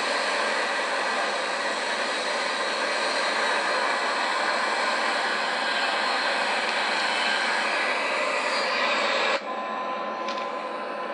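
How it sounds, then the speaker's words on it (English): Boeing 737-800 jet engines roar steadily at takeoff power in Microsoft Flight Simulator X, a loud broadband rush that holds constant before dropping sharply near the end. "So we can pitch up the nose of the aircraft as we take off."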